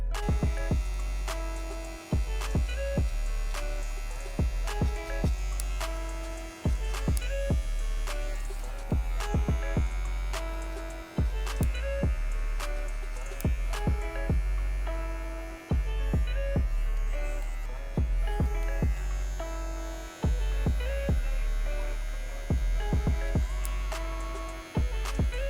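Electric hair clippers with the guard lever fully closed run in a steady buzzing hum during a skin fade, pulsing in repeated strokes with brief pauses as they pass over the head.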